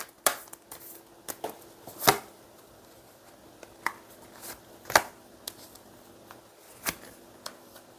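Tarot cards are shuffled and laid down in short bursts of crisp slaps and riffles, close and fairly quiet, separated by brief pauses, with no talking.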